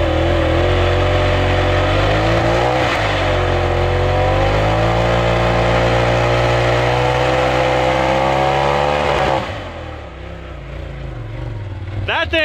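A car engine revs hard at a burnout event, a loud, steady roar with rising and falling pitch that holds for about nine seconds before easing down to a lower rumble.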